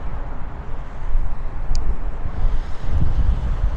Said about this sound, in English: It is very windy down here too